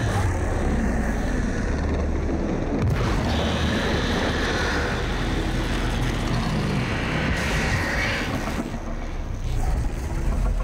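A long rumbling explosion in Warframe on Deimos, a dense roar that swells and holds steady for several seconds with brief rushes of debris-like noise on top.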